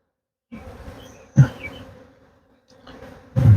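Agitated, stirred-up honeybees buzzing in uneven bursts, close by at an open hive, swelling and fading with a few sharper surges.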